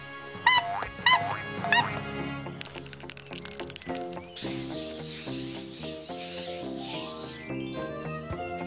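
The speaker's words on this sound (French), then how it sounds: "on va nettoyer ces horribles dessins" Cartoon scrubbing of graffiti plays alongside bouncy music, with a few squeaky rubbing strokes early on, then a long hissing brush-like wash that rises and stops, all under the score with no speech.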